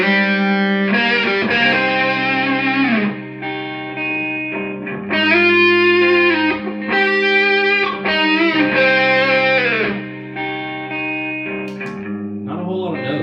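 Slow, sparse guitar lines outlining chord tones over a sharp-minor progression, played with distortion and effects, sustained notes and short phrases separated by brief pauses.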